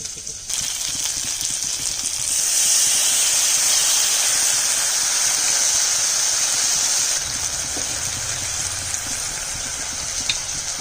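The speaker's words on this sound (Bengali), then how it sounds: "আর এখানে আছে মশলা ধোয়া জল, এই সম্পূর্ণটা আমি দিয়ে দিচ্ছি" Spice-rinsing water poured into a hot pan of frying spices sets off a loud, sustained hiss of sizzling and steam that holds for several seconds before easing.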